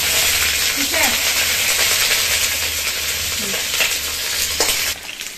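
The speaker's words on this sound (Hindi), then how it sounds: "तो ये मछली अच्छे से फ्राई हो गया है" Fish frying in a pan as it is stirred, a loud close continuous sizzle with scraping stir sounds, fading near the end.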